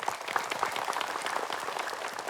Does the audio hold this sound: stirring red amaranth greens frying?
no